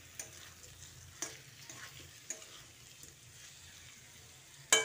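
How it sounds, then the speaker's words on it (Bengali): Mixed vegetables with cumin powder being stirred in a cooking pan, a low, faint frying hiss broken by a few sharp spoon clicks against the pan, the last one louder. "জিরে গুঁড়োটা দিয়েও সবজির সঙ্গে ভালো করে মিশিয়ে দিচ্ছি"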